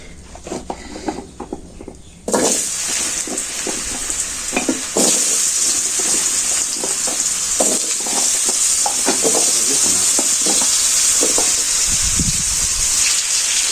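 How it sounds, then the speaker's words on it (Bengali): Potatoes tipped into hot oil at a village cooking fire burst into a loud, continuous sizzle that stays strong throughout, with rhythmic clatter and stirring scrapes heard close by. "তেল একবারে আলুগুলো দিয়ে দিই"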